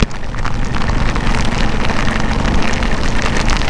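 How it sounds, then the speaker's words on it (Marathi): Sudden heavy monsoon rain beats down during a motorcycle ride on a forest road to Tamini Ghat, a loud, unbroken roar of drops and wind with no voices. "अचानक पाऊस आला"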